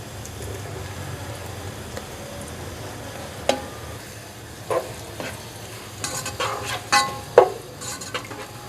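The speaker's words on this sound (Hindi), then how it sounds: "मैंने एक पतीली में ऑयल डाल दिया। इसमें सबसे पहले मैं प्याज ऐड करूंगी।" Onions frying in oil in a cooking pot, a steady low sizzle with scattered stirring scrapes and clinks of a utensil growing busier toward the end, close by with no talking.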